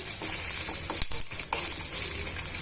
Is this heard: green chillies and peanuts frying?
yes